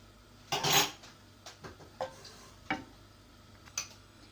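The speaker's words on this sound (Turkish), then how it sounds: "Ve yavaş yavaş karıştırmaya başlıyorum." A spoon stirs cornstarch pudding thickening in a pot, giving a few scattered clinks and taps against the metal, one louder knock early on, then sparse light ticks with quiet pauses between.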